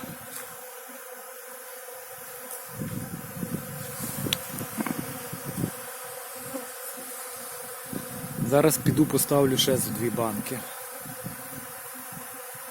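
Honey bees buzz steadily close by around a water source, a continuous droning hum, while someone speaks briefly over it.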